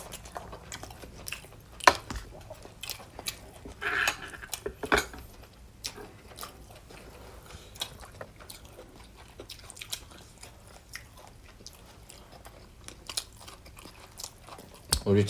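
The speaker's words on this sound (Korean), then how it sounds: "우리 차돌박이 먹어요." People eating beef brisket at a meal with soybean paste stew and spicy noodles, with soft repeated chewing and biting sounds and occasional clinks of dishes and cutlery, close and quiet, with some talk in the background.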